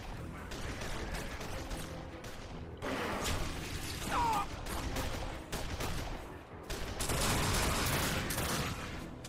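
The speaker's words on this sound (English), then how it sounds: "Stop shooting me, bro." Enemy gunfire in the video game Darkness 2, clustered bursts of shots and mechanical clatter coming in waves, moderately loud and close with brief lulls between volleys.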